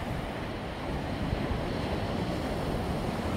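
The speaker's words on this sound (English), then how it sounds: "There's Dave on a wave." Ocean surf rolls in a steady broadband wash, with waves breaking continuously and wind noise buffeting the microphone at a surf spot.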